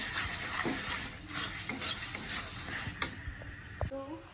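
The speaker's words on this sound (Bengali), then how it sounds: "তো মশলাটাকে নাড়ছি" Spice masala fries in oil in a pan while being stirred, making a close hissing sizzle broken by several scraping strokes of a spoon and a sharp clink near the end.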